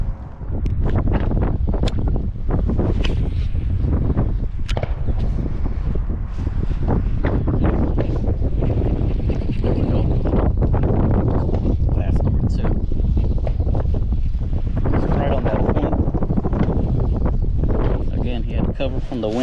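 Strong wind blowing across a fishing boat on a lake during bass fishing, a loud continuous rushing buffet battering the microphone the whole time, with someone talking over it.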